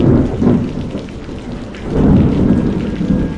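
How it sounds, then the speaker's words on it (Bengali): Thunderstorm sound effect from a Bangla horror cartoon, with heavy rain and two loud rolling thunder rumbles, the second swelling longer, close and dense with no talking. "বাইরে ঝড়ের গতি আরো উদ্দাম।"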